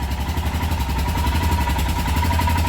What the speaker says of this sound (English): That's the Enfield happily running.